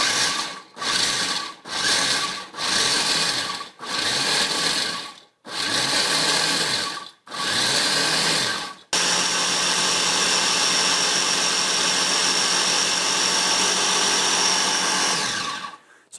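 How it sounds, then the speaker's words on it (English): A food processor grinds two cups of pecans, loud and steady, first in several short pulses with gaps and then in one continuous whirring run of about seven seconds that cuts off at the end. "So I got 2 cups of pecans in the nifty old food processor."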